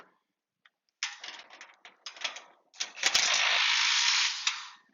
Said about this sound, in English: we just put that bolt through and tightened it up